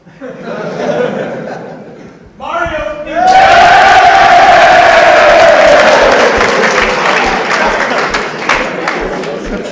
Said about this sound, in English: Danny Lefebvre getting a big round of applause for his contribution to the spring draft